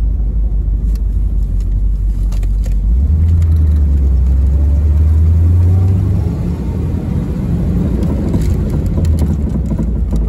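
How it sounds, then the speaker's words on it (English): A 1969 Chevrolet Corvette convertible with a 427/390 L36 engine and 4-speed, driven with its soft top retracted, giving a loud low engine rumble and road noise with a faint light rattle, rising briefly then settling. "I'm hearing a little rattle in the car that I think is the soft top in its retracted position."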